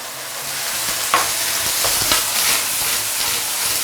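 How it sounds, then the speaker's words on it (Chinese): Scallions, pig liver and vegetables are stir-fried in a wok over maximum heat, with a loud continuous sizzle broken by the scrape and clatter of tossing and stirring, close up and without talk. "快速去翻炒它"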